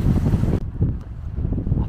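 Strong mountain wind in the Tatras, blowing hard enough to whip small waves on a lake, roars as broad, buffeting gusts against the microphone throughout.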